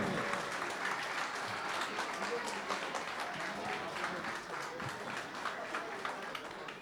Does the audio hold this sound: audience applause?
yes